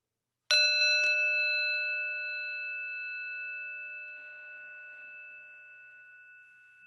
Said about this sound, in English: listen to the sound of the bell as it rings out, inviting us into stillness.